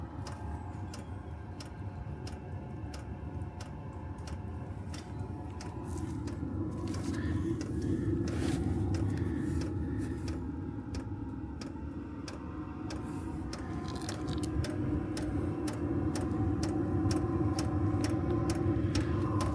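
A portable 12-volt diesel heater in a caravan runs with a steady low mechanical hum throughout, rising slightly partway, with quick regular ticking clicks layered over it at moderate distance.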